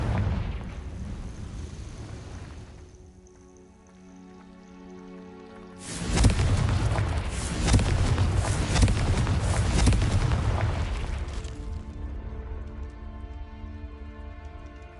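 Fire spell explosions in the video game Hogwarts Legacy, a sudden loud burst of crackling, roaring blasts lasting several seconds between quieter game music and ambience.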